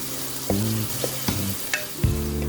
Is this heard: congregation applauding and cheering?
no